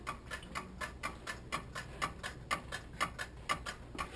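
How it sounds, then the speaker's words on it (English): Steady, close mechanical ticking from a pendulum inside a vintage neon flasher barricade light from the 1940s or 50s, about two even ticks per second with no voices. "You can hear tick-tocking and so forth"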